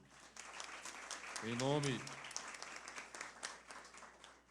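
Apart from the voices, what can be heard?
applause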